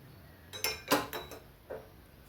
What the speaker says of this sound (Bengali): এই যে গরম জলটা এবার নামাবো